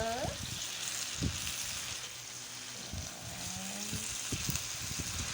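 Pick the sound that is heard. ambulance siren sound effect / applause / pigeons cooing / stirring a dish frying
stirring a dish frying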